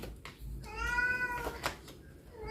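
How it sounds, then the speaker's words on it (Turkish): A house cat lets out one long, clear meow in the middle, close to the listener, with faint background noise and a soft knock before and after. "Ne kadar çok miyavlıyorsun değil mi?"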